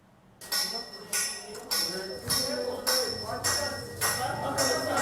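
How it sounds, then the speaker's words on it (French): A bell rings in a repeated series of sharp, metallic strikes, signalling the start of an exam, about eight evenly spaced clangs with ringing overtones and faint background noise. "C'est le son de cloche qui a donné le top de la composition"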